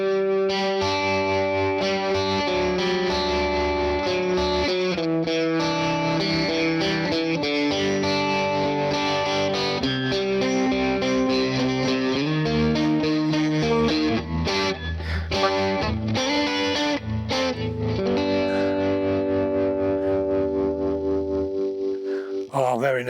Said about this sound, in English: Chimey, kind of Vox chimey amp with trem.